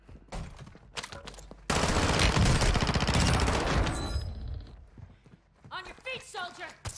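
Bursts of video game gunfire mixed with horse hoof clip-clops, a sharp loud volley in the middle flanked by quieter clattering and a voice speaking near the end.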